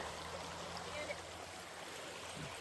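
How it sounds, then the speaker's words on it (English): Stream water flowing along the Appalachian Trail in Pennsylvania, a steady close rushing and trickling wash that stays even throughout, with a small splash partway and nothing spoken. "The water is a-flowing."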